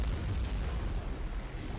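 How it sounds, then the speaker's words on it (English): A heavy, rumbling blast from the video game Nuclear Throne, with sustained low-end boom that fills the whole clip, loud and close, no voices. "That was a big explosion."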